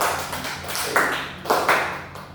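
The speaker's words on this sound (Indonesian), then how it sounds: "Oke, tepuk tangan serius dulu." Students in a classroom perform the 'tepuk tangan serius' clapping routine: a few soft, patterned claps and taps in a short rhythmic sequence, fairly quiet with no talking.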